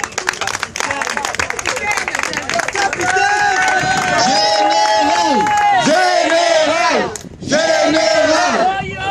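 A crowd at a provincial installation ceremony applauds and cheers loudly, with shouted chants and sustained voices over dense clapping that briefly drops out before resuming.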